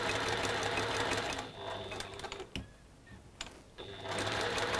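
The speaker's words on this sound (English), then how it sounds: "we're going to sew 1/4 inch either side of that marked line" A sewing machine stitches quilt block squares in rapid steady bursts, running close and clear, pausing briefly in the middle with a few light clicks before starting up again.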